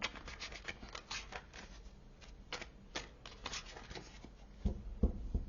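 A tarot card is drawn from a deck, giving quiet, rapid papery flicks and riffling clicks in an irregular run, with a few firmer taps near the end.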